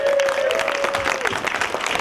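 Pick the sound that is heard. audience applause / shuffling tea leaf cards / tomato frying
audience applause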